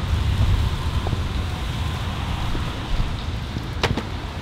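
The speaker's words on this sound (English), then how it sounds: "It is raining" Steady rain falls on a surface outdoors, a dense continuous hiss with scattered drop taps and a brief sharper patter near the end, no voices.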